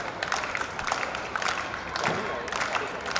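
At a live Indian Grand Prix race in Bangalore, a crowd keeps up scattered clapping and cheering throughout, a dense, busy wash at moderate distance.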